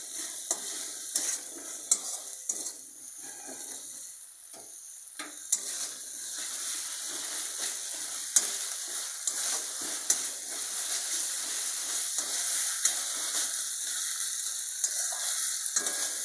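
Onions sizzling steadily in hot oil while being stirred for prawn malai curry, a continuous close fry with small scraping clicks from the spoon.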